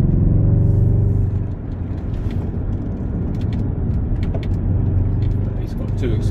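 A BMW X5 drives along a road, giving a steady, close engine rumble and tyre roar that stays even throughout, with voices over it.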